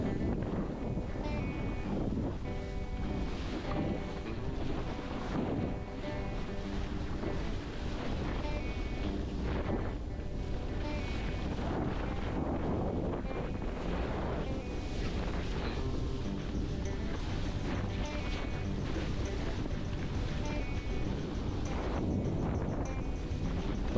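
Steady wind roaring across a beach at Fort Pierce, Florida, on a kiteboarding day with north winds, a continuous broadband rush with gusty swells and low rumble throughout, no talk.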